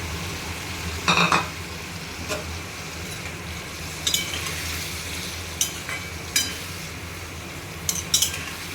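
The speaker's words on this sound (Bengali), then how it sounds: "এবারে আমি এই পেঁয়াজ বাটাটা এই মাংসের মধ্যে দিয়ে দেবো, দিয়ে দুটোকে আমি একসঙ্গে করে ভাজবো।" Minced meat frying with onion paste in a pan gives a low steady sizzle, broken by several sharp scrapes and clinks of a metal spoon stirring against the pan.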